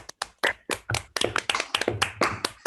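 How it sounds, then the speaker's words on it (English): Scattered hand claps from a small online audience thanking a lecturer after a biology talk, a dozen or so sharp, uneven claps close to the microphone, brief and unsynchronized. "in a round of applause for Amaury's lectures"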